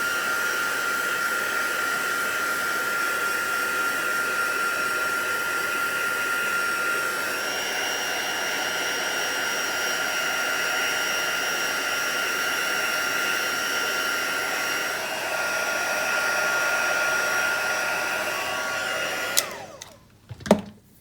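A hair dryer blows steadily to dry ink on a handmade stamped card, a loud continuous whooshing drone that runs alone for about nineteen seconds before cutting off with a few clicks and clunks.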